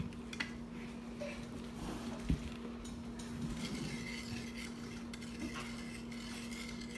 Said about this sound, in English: we're going to mix until it's clear